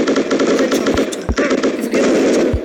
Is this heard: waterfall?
no